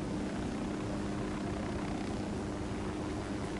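A helicopter in the video game Ghost Recon Wildlands gives off a steady, faint, dense rotor and engine drone throughout, with no talk.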